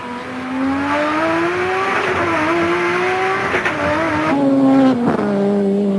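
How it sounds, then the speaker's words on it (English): A Nissan touring car with a noisy gearbox races at Mallala during a 1989 ATCC round, its engine note climbing steadily, then dropping and climbing again through a couple of gear changes, loud and close with faint crowd noise. "Noisy gearbox in the Nissan."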